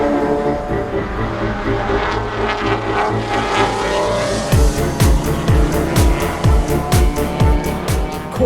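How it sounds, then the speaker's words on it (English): Touring race cars roaring around a track in qualifying, a dense, continuous engine drone from many cars, with sharp passes and gear-change bursts growing louder and more rhythmic in the second half. "Qualifying with this many cars on track is absolutely bonkers."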